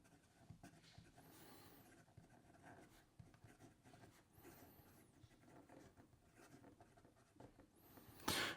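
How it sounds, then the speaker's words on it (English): Leonardo Momento Magico Emerald fountain pen with a medium nib writing on paper: steady, soft scratchy strokes with small pauses between words, close and continuous, no voices. "here we go with the rest of the writing sample"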